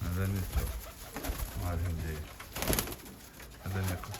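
Iraqi pigeons kept in a loft in Germany coo softly in repeated low phrases, with someone talking close by and faint background noise.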